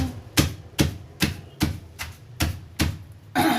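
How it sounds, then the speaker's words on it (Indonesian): Cassava leaves, washed clean, pounded by hand: eight sharp, evenly spaced thuds, about two and a half per second, close and fairly loud with no talk. "Daun singkong dicuci bersih, kemudian kita tumbuk seperti ini."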